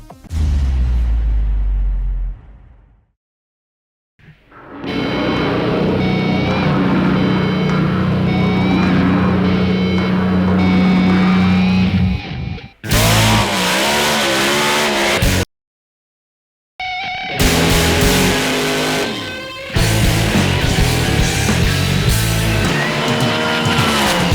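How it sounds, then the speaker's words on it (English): Drag racing cars at the 2004 Southern Drag Nationals at Ruapuna roar loudly in bursts, with engines revving and screaming past, broken by abrupt silent gaps between runs. "You can never have too much drag racing, so wait, there's more."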